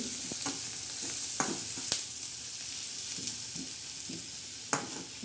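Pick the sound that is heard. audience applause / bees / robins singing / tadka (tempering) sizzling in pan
tadka (tempering) sizzling in pan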